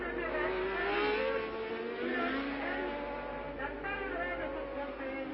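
Jean-Pierre Beltoise's Formula 1 race car at the 1970 French Grand Prix, its engine drone rising and falling steadily at moderate distance beneath continuous commentary.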